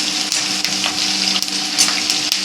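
Green chillies and curry leaves fry in hot oil, giving a steady, close crackling sizzle with brief pops and stirring scrapes, and no one speaks.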